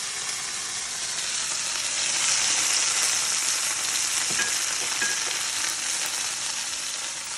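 Chicken piccata frying over high heat in a pan, a loud continuous sizzle with crackling spatter and a few faint clinks, no voices.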